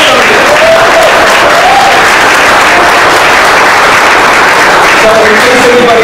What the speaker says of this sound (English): please give them a round of applause and buy something